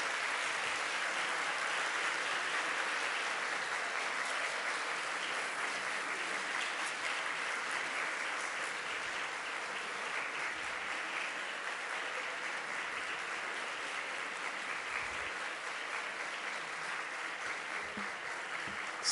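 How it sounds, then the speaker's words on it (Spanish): Sustained applause from a nursing graduation ceremony audience, standing to thank their invited guests, steady dense clapping that holds at an even level for the whole stretch with no talk over it. "les voy a pedir que se pongan de pie, que miren a las personas que ustedes invitaron y ustedes los aplaudan"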